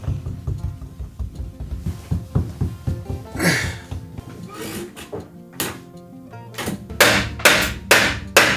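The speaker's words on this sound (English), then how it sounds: "I start by tacking it in from the okabe side with finish nails" Finish nails are hammered into wooden trim at the junction between a covered okabe column wall and an exposed shinkabe section, heard as sharp nearby hammer strikes, with light taps at first and then a run of loud, evenly spaced blows at the end.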